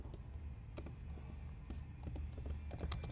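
A computer keyboard is typed on, quiet irregular clicks and keystroke bursts in a quiet room, with no voices.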